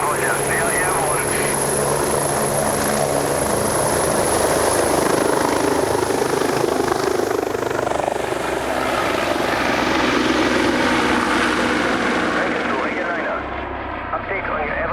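A rescue helicopter on an avalanche emergency call flies close overhead, its loud, continuous rotor thump and turbine whine sustained throughout and fading slightly at the end, with radio voices talking over it.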